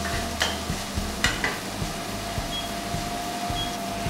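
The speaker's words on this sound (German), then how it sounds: "Und dann kommen unsere Zwiebeln rein. Die müssen wir jetzt einmal glasig dünsten." Onions and garlic sauté in a pan, a steady soft sizzle under repeated scraping and stirring strokes at an irregular rhythm, with a faint electrical hum in the background.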